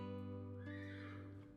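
A horse in the video game Love & Fool's Gold gives one loud, close whinny that rises and then trails off, heard alone.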